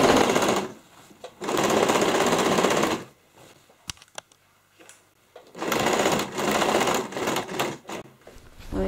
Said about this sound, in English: now we're going to go and do an edge stitch, sewing the decorative trim to the center panel of the bag